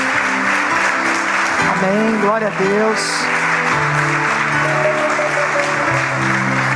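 A church congregation applauds during a worship service, steady clapping running under a voice as he speaks throughout.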